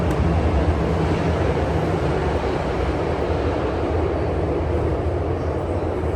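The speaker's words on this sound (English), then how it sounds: "We got a train coming. I just heard a train coming." A steady, loud low rumble fills Shuangjing station on Beijing Subway Line 10 as a train draws near, broad and droning without letup, no voices.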